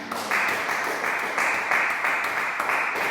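A church congregation applauding in steady, rhythmic clapping, a bright sustained patter that pulses evenly for a few seconds, with no speech over it.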